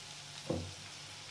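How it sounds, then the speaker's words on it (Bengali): Pieces of fried koi fish drop into hot masala in a pan, a short soft splash at the start of a low, steady sizzle that continues alone. "ভাজা মাছগুলো আমি এর মধ্যে দিয়ে দিচ্ছি"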